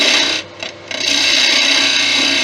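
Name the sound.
detail gouge cutting teak on a wood lathe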